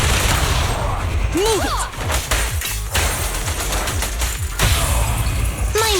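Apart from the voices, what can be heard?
gunfire from the video game Zenless Zone Zero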